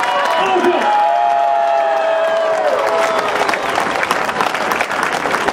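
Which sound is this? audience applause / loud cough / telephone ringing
audience applause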